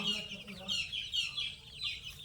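Soft, continuous clucking and cheeping from a group of free-range village chickens and month-old chicks, fairly quiet and steady with a faint background hiss.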